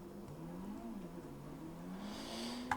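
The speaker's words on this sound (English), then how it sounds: "It's a fast little car, I'll give it that." A fast little car drives in GTA V, its engine a low, faint, rising hum that climbs steadily through the gears, ending in a brief sharp click or knock, with no one talking.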